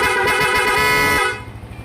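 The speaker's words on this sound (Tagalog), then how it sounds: "Lumakas yung busina" A loud car horn wired through a one-relay setup blares as a steady, rich tone for over a second, then cuts off, leaving an idling engine rumble.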